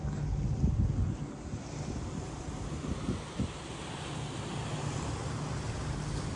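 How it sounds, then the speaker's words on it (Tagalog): Strong sea waves surging below the White Cliff on Tung Lung Chau island, a continuous low rumbling wash of surf mixed with heavy wind buffeting the microphone, steady throughout with no speech. "Ayan, yung waves. Kung makikita mo. Ayan guys, strong waves."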